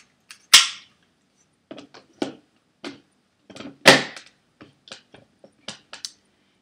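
Sharp plastic clicks and snaps as the lid of a smoothie blender is pressed and locked shut, a dozen or so isolated knocks of varying loudness with quiet gaps between them.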